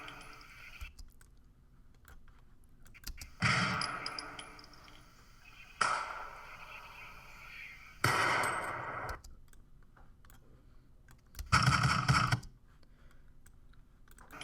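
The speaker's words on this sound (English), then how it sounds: "I've imported kind of a compilation of gunshots that I found on YouTube" Several separate gunshot sound effects from a compilation, each a short sharp burst with a brief ringing tail, spaced a few seconds apart against quiet near-silence.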